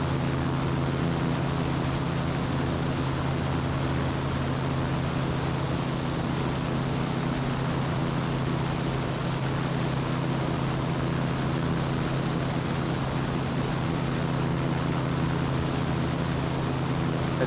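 Light aircraft engine at about 4,000 RPM in level flight in ground effect, a loud constant drone with a strong low tonal hum and broad rushing noise, steady throughout.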